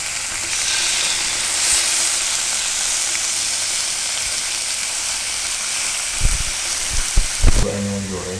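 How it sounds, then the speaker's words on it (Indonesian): Fish deep-fries dry in hot oil with a steady, crackling sizzle throughout, and a few louder knocks and brief voices near the end. "Gue yang goreng kering."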